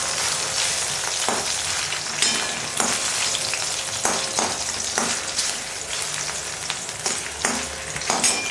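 Raisins fry in a pan with a close, steady sizzle. Frequent sharp pops and scraping stirs break through it every second or so.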